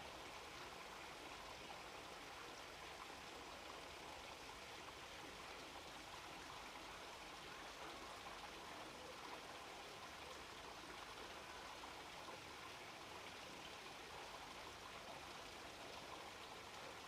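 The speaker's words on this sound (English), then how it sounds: "Allow the sound of the running water to come to you" Running water of a small stream, a soft, constant hiss and trickle heard from some distance, faint and unbroken with no voices.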